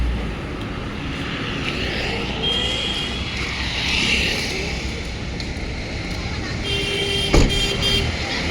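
Traffic passes on the Dehradun–Saharanpur national highway during a morning walk. Vehicles produce a continuous roadside roar, with one passing swell in the middle and a short sharp knock and horn-like tone near the end.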